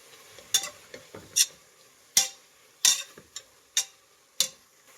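A spoon stirs chopped coriander and fenugreek leaves in a pan, producing about seven sharp, close scraping strokes at an uneven rhythm over quiet, with faint softer touches between and no talking.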